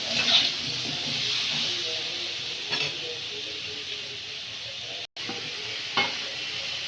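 Tomatoes being stir-fried with spices in a pan for a village-style Bengali fish curry, a steady close sizzle with occasional scraping stirs, and no talk.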